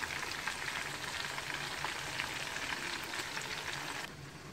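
Chicken malai tikka boti frying in a pan, a steady dense sizzle and crackle of oil that holds evenly for about four seconds, then drops slightly quieter near the end, with no voices.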